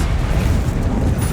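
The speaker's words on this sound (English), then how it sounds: "Expelliarmus." Expelliarmus disarming spell cast in the video game Hogwarts Legacy, a continuous low rumbling burst with a booming, explosive body that fills the short moment without pause.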